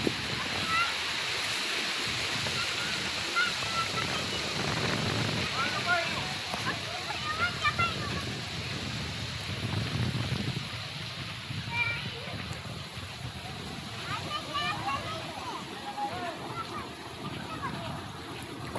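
A river runs right beside a Dattatreya temple, giving a steady broadband rush of moving water across the whole stretch, with people talking nearby over the flow.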